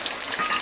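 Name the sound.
garlic frying for tempering crab curry on a wood stove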